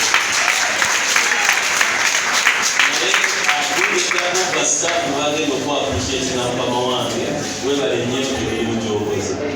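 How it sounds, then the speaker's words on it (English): Sustained audience hand clapping at a school guild council handover ceremony, dense and continuous, with talking and crowd voices mixed in toward the second half. "I think we should let us appreciate him with the hand clap today."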